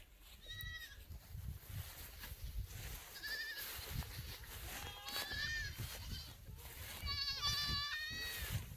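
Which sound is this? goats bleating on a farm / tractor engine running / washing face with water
goats bleating on a farm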